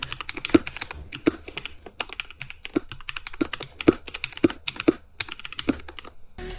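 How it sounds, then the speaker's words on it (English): Keystrokes on a Cooler Master Quickfire TK mechanical keyboard with lubed Gateron Oil King switches, 35 gram springs, Domiki Hush keycaps and a repainted case, tapping in a steady, unhurried rhythm of close, muted clacks without talk. "Here's a short sound test of the key."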